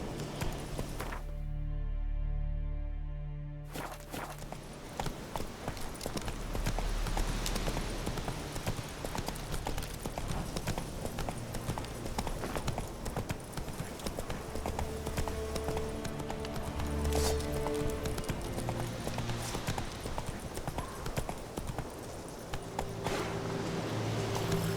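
Horse hooves gallop and clop steadily in The Witcher 3 video game, a continuous rhythmic drumming under dense game ambience and music, with a brief quieter spot near the start.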